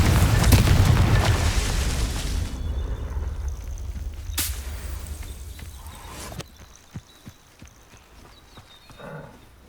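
A Confringo fire spell bursts in Hogwarts Legacy: a loud rumbling blast fades over a few seconds, followed by two sharp explosive cracks and a scatter of smaller clicks and impacts.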